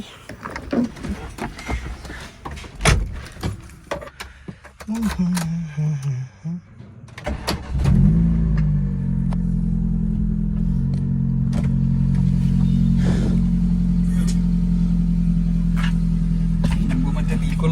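A modified Maruti Zen with a custom exhaust cranks and catches after about seven seconds of clicks and handling noises, then settles into a loud, steady idle that holds to the end, with a brief revving swell earlier.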